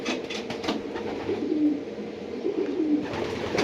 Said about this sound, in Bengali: প্রত্যেকটা কবুতর ভালো ব্লাড লাইনের কবুতর